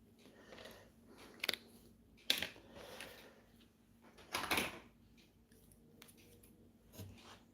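Scissors snip at paper in a quiet room, a few separate crisp cuts spread out over several seconds, with soft handling noises in between.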